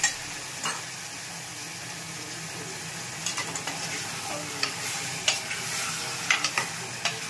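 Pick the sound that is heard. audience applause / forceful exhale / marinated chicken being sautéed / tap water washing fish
marinated chicken being sautéed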